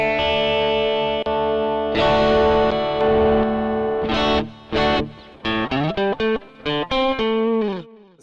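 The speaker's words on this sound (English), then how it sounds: "I can put it into a coil tap single coil sound" An electric guitar played through a Rockman Guitar Ace with the pickup coil-tapped to a single-coil sound, heavily effected with chorus and distortion; sustained chords ring out, then a run of short, choppy stabs and picked notes, loud and alone.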